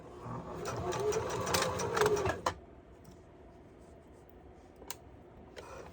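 Sewing machine stitching sides onto a panty runs loudly for about two and a half seconds at close range, then stops abruptly, leaving quiet room tone and a couple of faint clicks.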